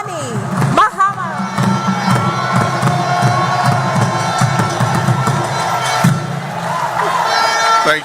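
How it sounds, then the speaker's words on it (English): Audience at a live event in Ghana gives a standing ovation with sustained applause and cheering for President John Dramani Mahama, a loud continuous crowd roar mixed with voices throughout. "with a standing ovation and a rounds of applause"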